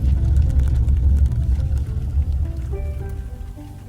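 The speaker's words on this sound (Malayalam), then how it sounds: "നല്ല മഴയുണ്ട് കേട്ടോ" Steady, heavy rain roars with a low rumble, dense and continuous, with faint tapping on top and no voices.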